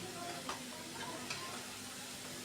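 Spice paste is stir-fried in a pan while cooking a cabbage-leaf dish, a dense continuous sizzle at low volume with a couple of faint scraping taps, no talk heard.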